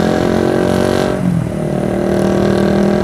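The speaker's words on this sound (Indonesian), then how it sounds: "Di depan ada motor yang knalpotnya bising." A motorcycle with a loud, noisy exhaust passes ahead on a road at night in Indonesia, its engine rumble heard over the steady roar of the rider's own bike and wind.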